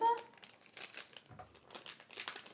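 A packet of French onion soup mix is handled and opened, with bursts of crinkling and crackling plastic-foil packaging close up, interspersed with brief quiet talk.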